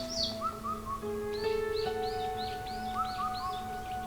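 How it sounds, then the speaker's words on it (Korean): Birds sing in a forest during a quiet outdoor meditation walk, with bright rising chirps and tweets repeating in quick runs over a soft, steady background hum. "들려오는 새소리"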